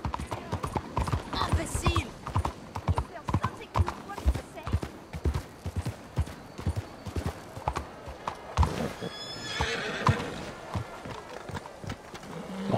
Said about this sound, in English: Horse don't want to go up steps.